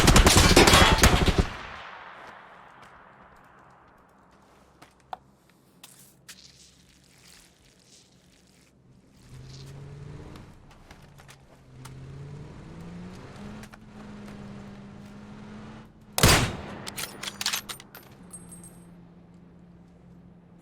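Two sharp, loud bursts of gunfire ring out in a PUBG match, one at the start and one near the end, with quieter clicks and a low vehicle-like hum between them.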